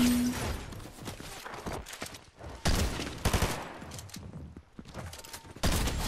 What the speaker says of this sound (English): Someone else is sniping.